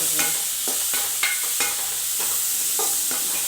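Tomato and onion being sautéed with curry leaves in a pan for a chayote and moong dal kootu, with a steady sizzle broken by repeated stirring scrapes and clanks, close and fairly loud with no talking.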